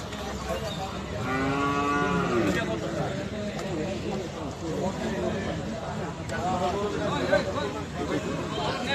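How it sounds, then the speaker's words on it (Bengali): Several cattle moo loudly at a cattle market amid a busy crowd of overlapping voices, the calls rising and falling against steady background chatter. "সব ধরনের গরু আছে"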